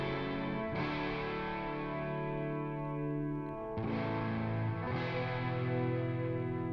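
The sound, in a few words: distorted electric guitar power chords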